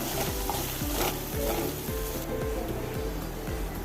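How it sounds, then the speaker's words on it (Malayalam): Frying masala with potatoes is stirred in a pan, a loud, close sizzle with regular rhythmic scraping strokes about every half second, with no talk. "അപ്പം നല്ല മണം വരുന്നുണ്ട് മസാലേൻ്റെ ഇളക്കി കൊടുക്കാം"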